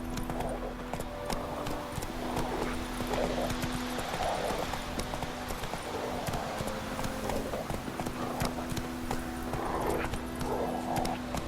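Roach, a horse in the Witcher 3 video game, gallops with steady rapid clip-clopping hoofbeats that run continuously over a constant low in-game music and ambient bed, fairly close and even in loudness.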